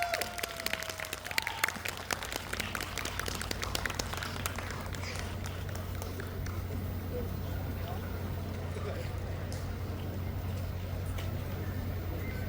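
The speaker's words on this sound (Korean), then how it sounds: "큰 박수 부탁드립니다." Audience applause at an outdoor pansori busking performance on a festival stage, with dense clapping strongest in the first seconds and then thinning into a steady crowd wash under a constant low hum.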